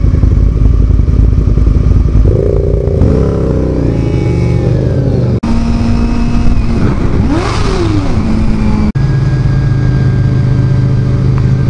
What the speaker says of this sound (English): Bloody bikers revving their bloody big square things that make sounds.